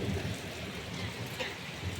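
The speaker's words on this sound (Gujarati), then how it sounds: "જો ગાઈસ વરસાદ વીજળી કઈ ચૂઈ થાય જો ખાલી હા વરસાદ વરસાદ" Steady rain pours down outdoors, a dense, even hiss of drops hitting surfaces with a low rumbling undertone, constant and close throughout.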